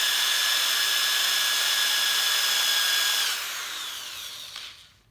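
A power drill spins a tire break-in bit against a brand new set of RC tires, scuffing the tread lightly. The steady whine runs loud and close for about three seconds, then winds down and fades.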